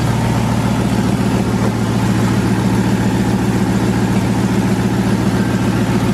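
A V8 engine in an S13 drift car idles close by with a steady, even rumble and a low throbbing pulse, unchanging throughout.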